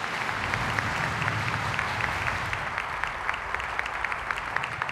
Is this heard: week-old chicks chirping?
no